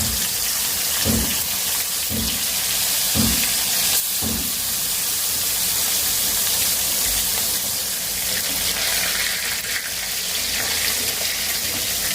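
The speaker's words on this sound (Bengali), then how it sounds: "মাছ ভাজাটা কিন্তু প্রায় শেষ অনেকটা লাল হয়ে গেছে" Steady, broad sizzling hiss fills the whole clip as salt-and-turmeric-coated fish fries in hot oil, with a few soft low thumps early on.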